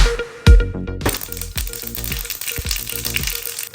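Mustard seeds dropped into hot oil in a heated pan, giving a sharp sizzling burst followed by steady crackling and repeated small pops, close and fairly loud.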